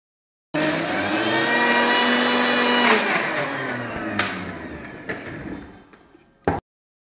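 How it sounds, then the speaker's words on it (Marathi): A kitchen mixer grinder whirs loudly while grinding rice flour and jaggery together, a steady motor hum that gradually winds down, ending with a short clunk of the lid or jar. "मी ना आता हे मिक्सरला काढून घेते एक घाणा, म्हणजे एक चक्कर देऊन घेते, सर्व मिक्सरला फिरवून घेते"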